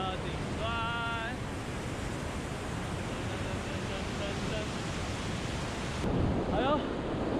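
Vernal Fall in Yosemite roars as a constant, broad rush of falling water heard from the top of the waterfall, with brief high chirping calls rising over it near the start and end.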